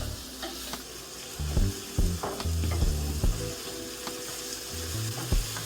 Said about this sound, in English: So I'm just going to sprinkle a little bit of spinach in there, a handful. Give it a little toss.